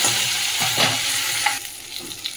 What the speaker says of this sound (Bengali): মাছটা একদিকে ভাজা হয়ে গেছে,